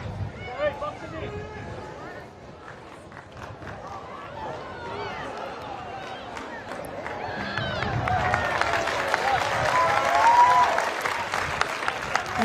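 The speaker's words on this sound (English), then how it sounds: "Home crowd happy with that decision." At a Perth Glory versus Brisbane Roar A-League football match, the home crowd swells into loud cheering and applause that builds and fills the stadium, with a commentator talking over it.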